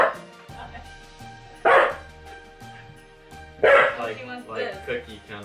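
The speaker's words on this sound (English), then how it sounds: "let's keep going and ignore our barking dog" A dog barks a few times nearby, sharp separate barks spaced apart, with quieter whines and talking in between.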